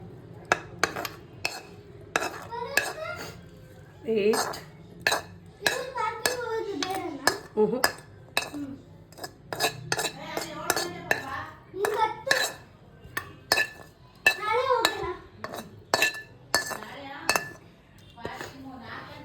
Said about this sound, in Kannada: ಸೊ ಈಗ ನಾವು ಈ ಬೌಲಿಂದ ಇನ್ನೊಂದು ಬೌಲಿಗೆ ಟ್ರಾನ್ಸ್ಫರ್ ಮಾಡಬೇಕು.